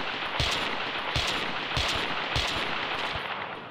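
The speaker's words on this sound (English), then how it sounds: "Now, that was 6 shots." Gunshots ring out in the Carnivores Triassic dinosaur-hunting video game, with about six loud, sharp blasts spaced roughly evenly over a few seconds against a constant hiss of ambient background.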